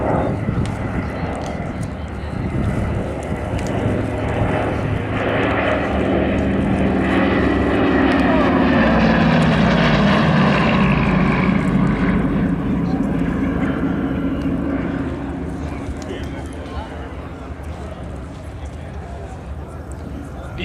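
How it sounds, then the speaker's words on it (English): Vintage World War II propeller airplanes at an air show fly past with a loud, sustained engine drone that swells and Doppler-shifts near the middle, while crowd chatter and an announcer's voice run underneath. "These airplanes are old"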